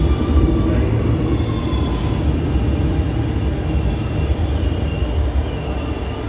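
A Buenos Aires subway train rolls in loudly, with a heavy low rumble and high metallic wheel squeals ringing over it.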